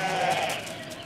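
Sheep bleating in a pasture being herded toward a road, one loud, wavering bleat close by that fades out within about a second.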